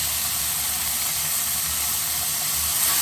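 Monkfish steams and hisses in a covered pan over high heat, a steady close sizzle and hiss with a faint low hum beneath.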